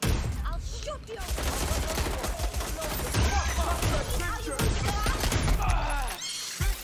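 Rapid gunfire bursts and impacts from the video game Watch Dogs: Legion, dense and loud through most of the clip, with people shouting over the shooting.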